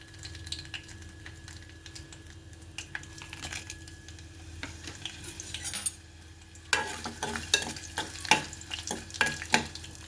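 Mustard seeds, cumin and urad dal sizzle in a spoon of oil and ghee for tempering dal, a steady close frying hiss. In the second half, sharp crackles and popping bursts grow louder, with no talking.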